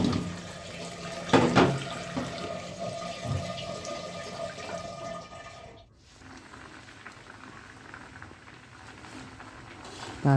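Cut radish pieces being washed in a bowl of water, a steady wet sloshing and splashing close by with occasional louder splashes and a brief dip near the middle.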